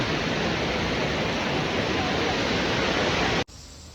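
A river coming down from the Sahyadri mountains rushes with a loud, constant roar of flowing water, close and unbroken until it cuts off abruptly near the end.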